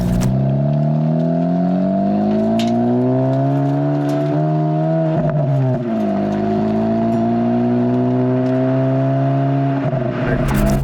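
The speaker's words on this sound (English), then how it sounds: "when you pop it into Sport Plus mode is the exhaust will open up, because it has the active exhaust, that triple exhaust back there" A 2024 Acura Integra Type S with its active triple exhaust opened in Sport Plus mode, revving loudly and close up in long sustained pulls, the engine note rising, dipping briefly and climbing again.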